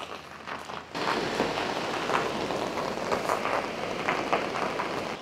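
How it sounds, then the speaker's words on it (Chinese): Rain falls onto the ground, starting suddenly and then holding as a steady, dense patter with scattered louder drops, moderately close and without speech. "这下雨天真的很麻烦啊"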